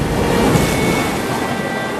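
Floodwater surges in a broad, loud wash of churning, rushing water, with gusty wind buffeting the microphone.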